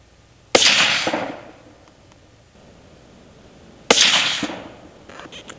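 Two sharp, loud rifle shots from a .280 Ackley firing 145-grain Barnes LRX loads crack out about three seconds apart, each followed by a rolling echo that fades away outdoors.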